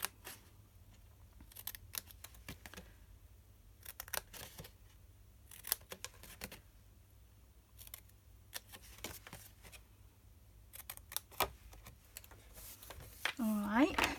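Scissors snipping paper tabs off card pieces in a papercraft project, a series of quiet, close, irregular crisp cuts and rustles, with a little chatter in the background.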